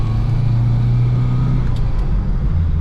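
Engine of a 1971 Vauxhall Firenza heard from inside while driving, a steady low droning hum with slight shifts in pitch as the car runs through its gears.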